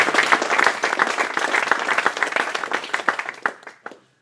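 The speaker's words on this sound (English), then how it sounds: "Big round of applause for these guys." A crowd applauds at a 2014 Great British Hobbit League tabletop gaming awards final. The dense, close clapping is steady at first, then thins into scattered claps and dies out near the end.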